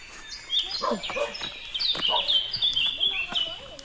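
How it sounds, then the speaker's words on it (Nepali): A dog barks near a house along a hiking route around Mui Wo, Hong Kong, giving a few sharp, moderately close barks mixed with birdsong. "घर नजिक कुकुर बलियो।"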